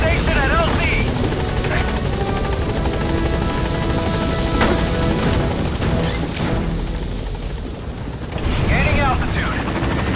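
In the Metal Gear Solid V video game, a helicopter approaches a landing zone with a heavy, continuous rotor roar and engine whine filling the scene, with radio chatter and brief clanks over it.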